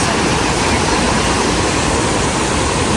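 A waterfall at Venida Farm in Iligan City roars as a loud, constant, dense rush of falling water, steady and close, with no other sounds standing out.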